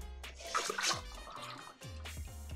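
Water draining from sprouting lentils in a colander, a faint close trickle and scattered drips with small splashes, quiet and without talk.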